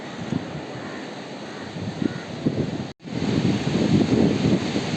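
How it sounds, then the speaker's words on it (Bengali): Ocean waves surge and wash in at Digha beach under heavy wind buffeting the microphone, with a brief cut midway before the rushing surf returns louder. "ঢেউ"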